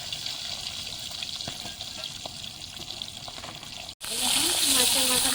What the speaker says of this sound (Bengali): একটু করে ভালো করে ভেজে নেব।